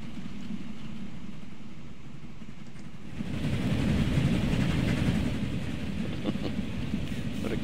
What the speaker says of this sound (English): What a cute little train.